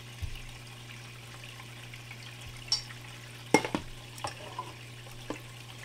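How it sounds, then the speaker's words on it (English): Water from a gold sluice runs over wet paydirt from the Superstition mine, a steady broadband wash with a low hum beneath and a few sharp knocks and splashes scattered through it. "fire up the sluice, get this dirt wet, and find us some gold"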